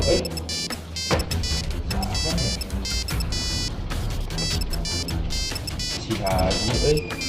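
A phone ringtone chimes repeatedly in a melodic pattern while several people talk over it nearby.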